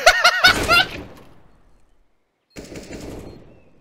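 Rapid automatic AK rifle fire in a first-person shooter video game, a loud close burst of shots that breaks off, followed after a pause by further muffled game noise.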